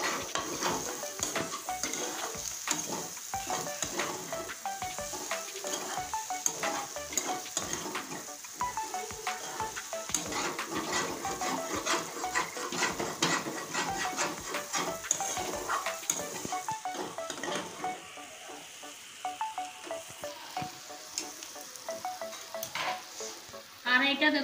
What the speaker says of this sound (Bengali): এবার কসুরলতি আলু মশলার সঙ্গে আরো কিছুক্ষণ কষিয়ে নেব।